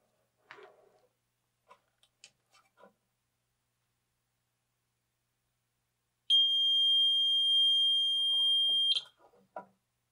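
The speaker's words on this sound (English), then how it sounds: "you'll see that alarm telling me there's something wrong" An antistatic wrist strap monitor gives a steady, piercing electronic alarm tone for about three seconds, bracketed by faint clicks and handling noises before and after.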